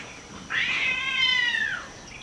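A single drawn-out cat yowl, rising then sliding down over about a second and a half, clear and fairly close against quiet background, as from cats fighting outdoors.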